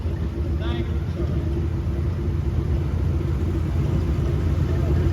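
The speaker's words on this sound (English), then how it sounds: "1950 Farmall H tractor" A 1950 Farmall H tractor with a Swartz wide front end in a Red Power Roundup parade, a steady low engine rumble close by and continuous, with a voice talking over it.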